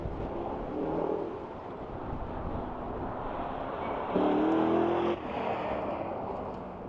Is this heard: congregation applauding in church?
no